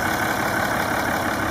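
A Cummins 6.7-liter turbo diesel in a 2007 Dodge Ram 2500 idles steadily up close, a dense, even rumble with a faint high whine and no voices.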